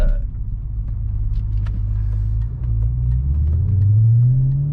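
A deep, steady exhaust rumble from a tuned 2007 Audi B7 RS4, heard from inside, loud and continuous, with the pitch rising as the engine revs near the end.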